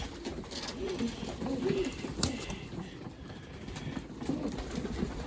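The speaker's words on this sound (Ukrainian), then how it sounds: "Ось такі прекрасні голубочки." Pigeons coo softly and repeatedly, several birds close by murmuring in low, rolling calls.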